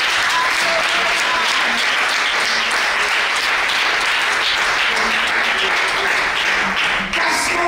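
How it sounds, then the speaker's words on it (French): A church congregation bursts into sustained, dense applause and cheering to acclaim the Lord, loud and continuous throughout with no gaps. "Est-ce que vous pouvez acclamer le Seigneur?"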